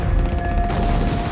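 Simulated rapid gunfire exchanges broadcast through loudspeakers to fake a large attack, a dense loud burst of crackling shots and rumble filling the whole moment.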